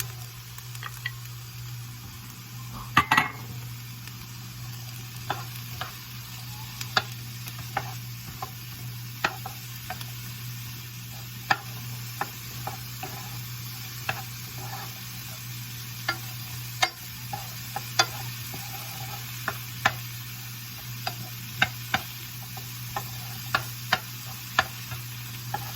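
Thai chicken stir-fries in a pan with mushrooms and peas, a steady low sizzle running under sharp, irregular clicks and scrapes from stirring, close and alone.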